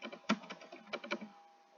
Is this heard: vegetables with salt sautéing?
no